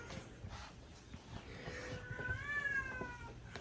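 A cat meows at a moderate distance in a quiet indoor setting, one drawn-out, rising and falling call near the end after a stretch of faint background noise.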